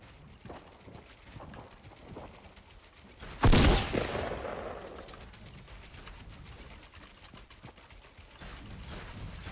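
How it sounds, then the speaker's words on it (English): A single loud burst of gunfire in Fortnite Battle Royale, aimed at a tree, cracks out sharply with a long decaying tail, set against quieter ambient game sounds and no talking. "I'm shooting. That's me. I'm shooting this tree."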